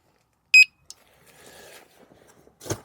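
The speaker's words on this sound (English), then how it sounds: "get an outdoor alarm system that is solar powered and it has a half-mile range radius sensor." A solar-powered outdoor alarm system gives one short, sharp electronic beep, followed by faint handling clicks and rustling, then a brief louder clatter at the end.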